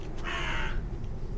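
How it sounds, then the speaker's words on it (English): A crow gives a single loud, harsh caw in a quiet film scene, a brief raspy call standing alone over a low background hush. "with the cue of the crow again"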